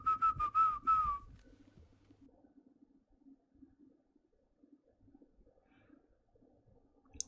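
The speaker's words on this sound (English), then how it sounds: "The whistling that some people can do." Human whistling, a bright, wavering tune of a few quick warbling notes at the start, close and clear, followed by near silence.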